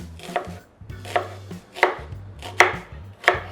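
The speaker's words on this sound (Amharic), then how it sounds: "በጣም ሳይደቅ እንከትፈዋለን።" An onion is chopped with a knife on a board in five distinct, evenly spaced cuts, each a crisp close thud with quiet gaps between.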